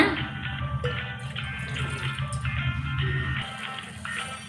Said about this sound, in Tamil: ஒரு பாத்திரத்தில் அரை டம்ளர் கூட தண்ணி ஊற்றுறேங்க